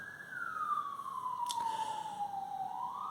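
A siren wails steadily in the distance, a single sweeping tone slowly falling then rising again, faint against background noise.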